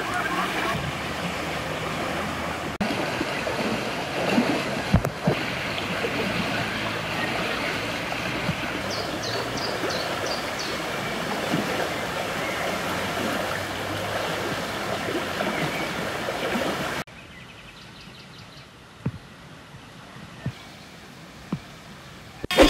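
Muddy river water flows after heavy rain near Psebay, a continuous close rushing roar that drops suddenly quieter near the end, with a voice speaking at times.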